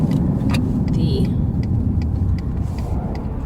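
Cars on a road near the north entrance of a park visitor station pass by in a steady, loud rumble of traffic, with brief brighter whooshes of individual vehicles and faint background voices.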